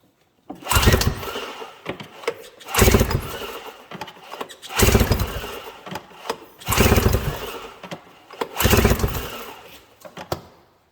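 A 700-class engine revs hard at wide open throttle in five separate pulls, each a loud close roar that surges then drops back to a brief idle between bursts.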